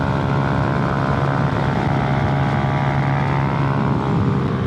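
A continuous motor engine drone from a passing SYM scooter, steady and fairly loud, holding an even pitch throughout with no voices.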